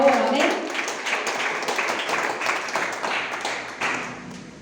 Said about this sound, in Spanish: ¿Cuántos le aplauden al Señor, le dan fuerte y alabanza al Padre en esta hora?